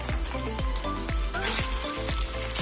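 Green peas, potatoes and carrots tipped into a hot pan for beef picadillo, giving a loud, steady sizzle and crackle with rhythmic thuds and knocks over it, close up and without talk.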